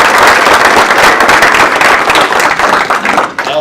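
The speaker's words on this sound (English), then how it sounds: "Let's give them a round of applause." Loud audience applause at a speaker series event, dense clapping from many hands filling the room, then thinning and tapering off toward the end.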